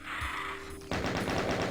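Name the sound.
double-barrel shotgun firing in the video game Doom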